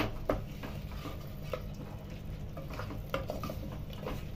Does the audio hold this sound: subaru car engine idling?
no